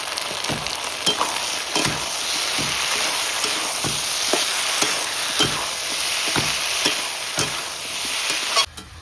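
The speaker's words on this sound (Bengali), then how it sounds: "এখনো কি কষানো চলছে মেটে আলু? হ্যাঁ হ্যাঁ, কষা কষাই হচ্ছে" Yam is stir-fried in masala of turmeric, salt, ginger paste, green chillies and tomato for a snakehead fish dish, with a steady loud sizzle and a regular scraping rhythm from the spatula against the pan, and no voices.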